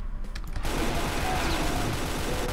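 Rapid gunfire in Brutal Doom, a dense continuous burst of shots after a brief quieter lead-in, loud and sustained without any speech over it.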